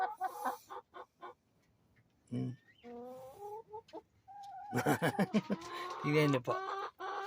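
Hens clucking outdoors while laying eggs, a run of close cackling calls rising in bursts and growing louder toward the end, with a person speaking briefly at the start.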